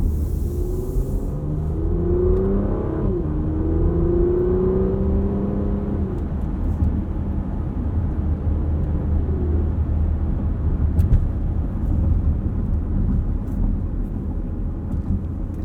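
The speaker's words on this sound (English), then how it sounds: "This PDK is very smooth, off the line, almost imperceptible shifts." A 2022 Porsche Macan S pulls away with its PDK gearbox, a smooth rising engine note that steps through a shift or two, heard from inside the cabin as a steady road rumble that continues alone.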